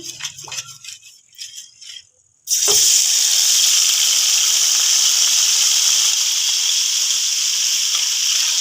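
Makhandi halwa mixture poured into very hot ghee, erupting into a loud, steady sizzling hiss that holds strongly after a few quiet clinks and a brief pause.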